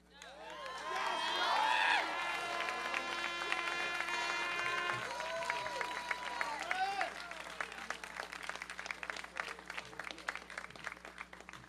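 Applause and cheering from a crowd at an outdoor pre-rally for March For Our Lives in Washington, DC, swelling loudly at first, with a voice calling out early on, then settling into dense, steady clapping.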